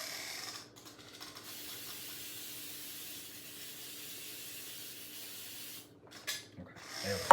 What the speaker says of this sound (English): make sure you just spray all sides of it